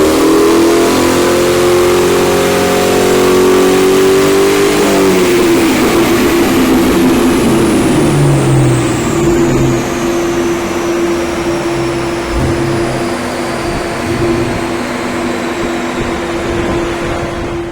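A 1998 Ford Mustang GT engine revs hard on a dyno during a power run, climbing to a loud sustained roar. It then holds a steady high drone as the wheels spin against the rollers, with no talk.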